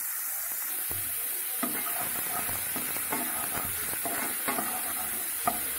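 Finely chopped onion frying in a little oil for a stuffed mushroom filling, a steady close sizzle with repeated scraping and stirring clicks of a spoon against the pan and no voices.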